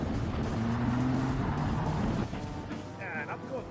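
A rally car engine revs and drones steadily while driving during a round of a rally event, with a loud, sustained motor note that drops off near the end, and faint voices underneath.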